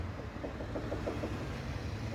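A faulty ball-joint stabilizer link on a Mercedes suspension gives a quick run of soft, rhythmic knocks while the car is worked in a repair shop, faint and close over a low steady hum.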